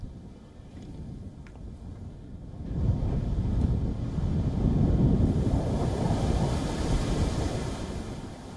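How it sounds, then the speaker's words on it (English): Ocean waves driven by a cold front crash against the Cuban coast, a continuous broad roar that swells louder partway through and stays heavy, with wind noise and no voices. "With the waves coming in, major streets were flooded with seawater"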